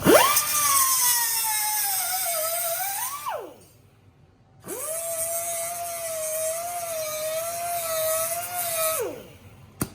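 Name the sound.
cutoff tool cutting excess threaded rod stock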